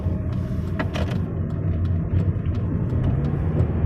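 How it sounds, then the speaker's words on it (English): Steady road traffic rumbles past close by, a continuous low drone of passing vehicles with occasional brighter swells from individual cars, no voices over it. "I have to watch this traffic"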